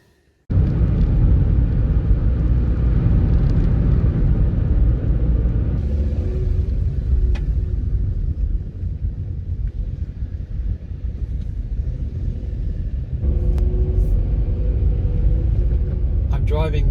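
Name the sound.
car driving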